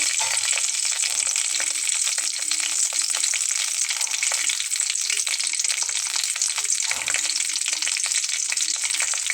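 Green chillies and asafoetida fry in hot oil for a potato curry, giving a loud, dense, continuous sizzle that stays even throughout with no pauses and no voices.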